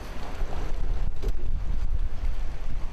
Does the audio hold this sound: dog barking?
no